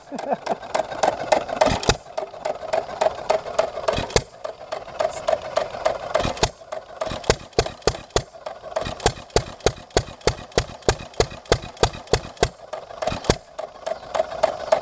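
A Contract Motor T Eaton hit-and-miss engine running slowly, with sharp, evenly spaced firing pops and a steady mechanical clatter and hum between them, close and alone.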